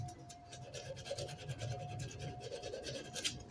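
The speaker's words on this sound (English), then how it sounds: "You guys bored watching me sand?" Sandpaper rubs against an old wooden screwdriver handle, giving a quiet, continuous rasping scratch made of short back-and-forth strokes, close up.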